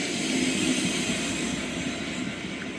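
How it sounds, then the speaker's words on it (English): A steady low rumble and drone of a diesel train passing through Kensington Olympia Station in London, continuous throughout with no voices. "a diesel going through Kensington Olympia Station."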